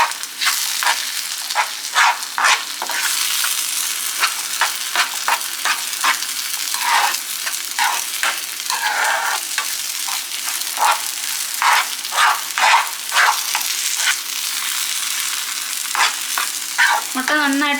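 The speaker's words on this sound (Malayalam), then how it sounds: "ഈ മുട്ടയൊന്ന് ഒരു ചെറിയ രീതിയിലൊന്ന് ഫ്രൈ ആവുന്നിടം വരെ ഇത് നമ്മൾ നന്നായിട്ട് ഇളക്കി കൊടുത്തോണ്ടിരിക്കണം" Egg frying with onion and tomato in a pan, stirred steadily with a utensil: a continuous loud sizzle broken by repeated scraping strokes in an uneven rhythm, close up, with no talking.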